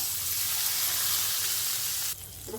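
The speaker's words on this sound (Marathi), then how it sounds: "आता ही फोडणी ह्याच्यात घालूया." Loud, steady sizzling of hot oil tempering poured into a green tomato chutney, a continuous crackling hiss that drops off sharply near the end.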